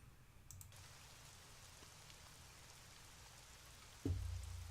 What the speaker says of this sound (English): The drips intensified into a sudden rain shower.